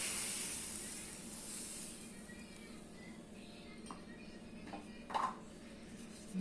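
A soft, steady hiss of milk starting to boil in a pan, with a few faint metallic clinks of a utensil near the end.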